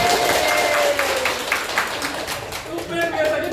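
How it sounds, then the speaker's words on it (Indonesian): A class of students applauds in a lecture room, giving a short burst of scattered clapping that tapers off while voices talk over it. "Tepuk tangan buat Mbak Eka"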